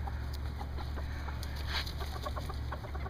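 Chickens in a coop cluck in short, scattered bursts throughout, moderately close and fairly quiet over a steady low hum, with no talking.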